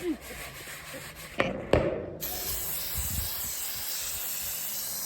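Green food colouring is sprayed onto shredded coconut in a few close, hissing bursts, followed by a steady airy spray that continues to the end, fairly quiet with no speech.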